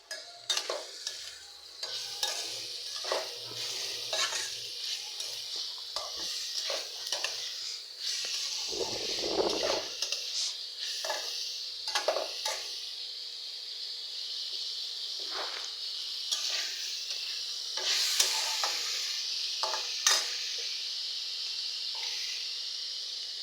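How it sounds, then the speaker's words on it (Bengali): Tomato bhaji with chopped onion, green chilli and a little salt sizzles in hot oil, a soft continuous hiss broken by irregular stirring scrapes, fairly quiet and close. "তো তেল দিয়ে তেলের উপরে এখন ভাজিটা দিয়ে দিচ্ছি।"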